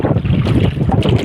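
Strong wind buffets a small boat out on the water, a loud, continuous roar of gusts on the microphone with the rush of waves beneath, no voices.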